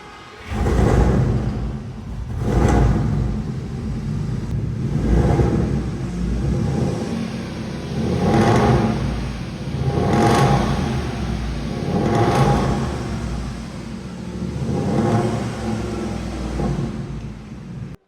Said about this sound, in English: It's got 8 exhaust tips, which sound like this.